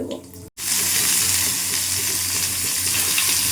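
Mixed vegetables hitting hot oil with panch phoron in a pan for chutney set off a loud, steady sizzle and crackle after a brief silent gap. The frying continues close and unbroken to the end.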